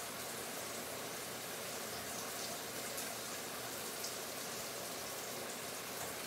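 Salmon sears in a hot pan with a steady, dense sizzle and crackle that holds evenly throughout, with no talking.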